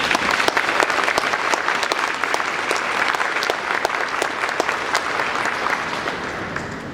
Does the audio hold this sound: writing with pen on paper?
no